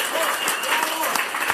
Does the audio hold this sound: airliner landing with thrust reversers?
no